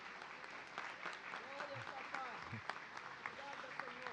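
A church congregation applauding during a celebration service, a steady, fairly faint wash of clapping with voices talking and calling out over it.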